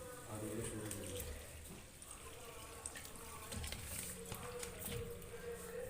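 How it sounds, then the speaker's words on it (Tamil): An LG top-load washing machine with a water problem drains, giving a steady gushing, rushing flow of water close by while someone talks over it. "ஆன் பண்ணிட்டுங்க, தண்ணி வெளில போகுது."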